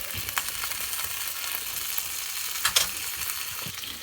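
Pasta burning in a dry pan aboard a sailboat on a winter trip, a steady crackling sizzle with scattered sharper pops, moderately close and alone without voices.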